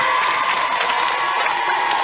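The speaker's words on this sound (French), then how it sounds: "Bravo, on peut les applaudir" A television studio audience of children on a 1991 Disney Club broadcast claps and cheers, a loud close burst of applause mixed with excited shouting and whoops.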